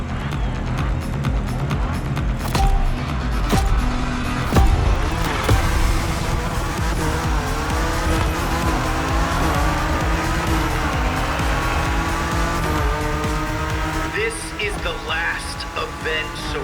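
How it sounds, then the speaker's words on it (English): BMW M4 race car in The Crew Motorfest, its engine droning steadily with tire squeal and rising revs throughout, while game voices talk over it. "Looks like that BMW M4 was born to rule."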